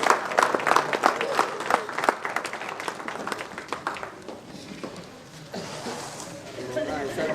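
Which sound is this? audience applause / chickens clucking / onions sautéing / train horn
audience applause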